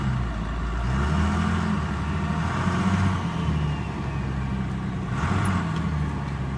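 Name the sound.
compound turbo 12 valve Cummins truck engine on dyno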